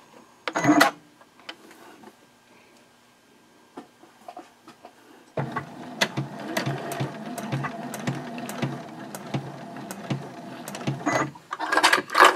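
Sewing machine backstitching at the start of a seam on a large fabric circle for a reversible drawstring gift bag, a brief burst of stitches and then steady, fast mechanical clatter running for several seconds.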